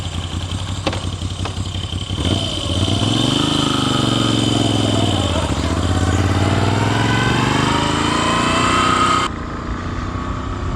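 A Moto Guzzi V7 Stornello motorcycle engine running close by, idling and then revving with rising and falling pitch as the ride gets under way, before dropping back near the end.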